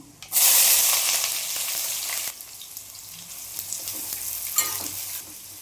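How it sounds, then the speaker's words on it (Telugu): Cinnamon, cloves and onion hit hot oil in a pan with a sudden loud sizzle that gradually settles into steady frying, with a few stirring clatters, for a Telangana-style mutton head curry. "ఇప్పుడు చెక్క లవంగా వేసుకుందాం, ఉల్లిపాయ వేసుకుందాం."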